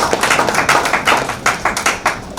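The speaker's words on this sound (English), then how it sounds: "A round of applause for ourselves." A crowd of tourism volunteers and guests applauds at an indoor gathering in Nigeria's FCT, a dense burst of hand clapping with quick uneven rhythm filling the moment with no talk over it.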